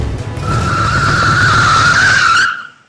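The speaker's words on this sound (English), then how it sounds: "The car came out of the darkness to meet him." In an old radio drama scene, a car comes out of the darkness and skids up with a loud tire squeal lasting about two seconds over engine rumble, then quickly fades away.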